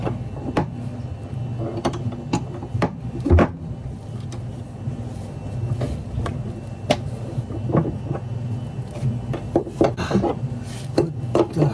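A wrench turns and tightens a nut on the shaft of an older Whirlpool Cabrio washer, making a run of irregular metallic clicks, ratchets and scrapes at close range over a low, rough rubbing.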